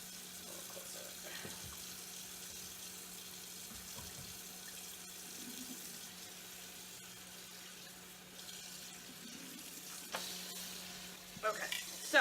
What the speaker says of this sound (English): We're going to put the cold water on.